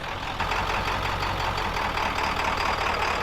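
An International 4300 truck engine runs steadily at close range, a loud continuous mid-range rumble with a slight shift partway through as it is put into gear.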